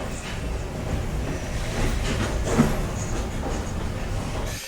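A steam train rumbles through Cayeux station on the seaside line, a dense, continuous rolling roar with rattling carriages heard up close for several seconds.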